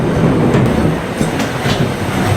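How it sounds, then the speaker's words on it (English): The Irvine Park Railroad train rolls through a tunnel in Irvine Regional Park, a loud, continuous rumble of wheels on track with rhythmic clacking close by and no talking. "The Irvine Park Railroad takes visitors on a train ride through Irvine"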